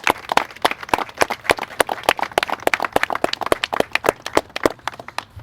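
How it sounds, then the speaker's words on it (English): Audience applause for police officers and deputies assembled at a press conference, a steady burst of many hands clapping, fairly close and lively, without talk over it. "please give a warm round of applause to all of the officers and deputies"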